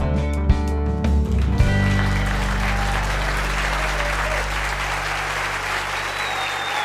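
A live audience breaks into broad, sustained applause welcoming the host at a radio show taping in a hall, loud and dense after a brief musical opening, then slowly thinning.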